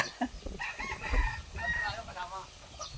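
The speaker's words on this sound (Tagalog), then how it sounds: "Ay, gaganda ng mga manok oh" Chickens crow and cluck close by, with people talking over the birds throughout.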